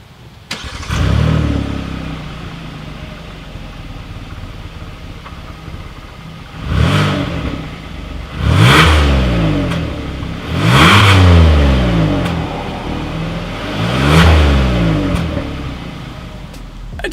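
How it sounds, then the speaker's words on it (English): A 2020 Hyundai Palisade SUV revs its engine through the exhaust, with four separate rising blips each climbing and then falling away over a steady idle, close up and loud. "Even though we're in an SUV, as always, here is that exhaust clip."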